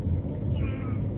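A voice mimics a cat's meow in one drawn-out, muffled call inside a car, heard over a steady low engine rumble.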